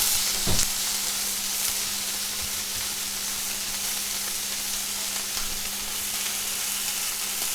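A steak sears in a hot pan, a steady soft sizzle and hiss running the whole time with a few brief clicks and knocks, no talking.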